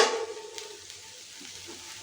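Onion, ginger and garlic frying in a pan for a chichinga masala give a soft, steady sizzle, with a scrape of stirring at the start and again at the end, close and alone.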